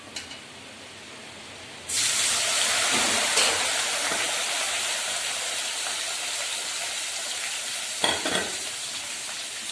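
Cauliflower pieces deep-frying in hot oil for cauliflower 65, a loud steady sizzle that surges in near two seconds and holds, with a few brief clatters of stirring.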